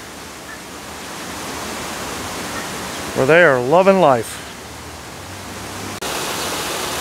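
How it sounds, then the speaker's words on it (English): A zoo waterfall pours down rocks as a steady, broad rushing wash throughout, with someone speaking briefly over it in the middle. "And now we've reached the top of the waterfall."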